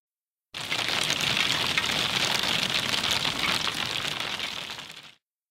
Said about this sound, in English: Hail hits the ground hard.